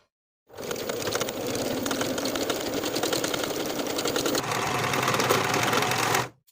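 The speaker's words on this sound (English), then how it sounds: "Sew with a 1/2 inch seam allowance, finish the raw edges together and press to one side." A sewing machine stitches a 1/2 inch seam on a pair of jeans, running loud and steady for about six seconds with a fast, even motor whir and needle chatter, slightly changing pitch near the end.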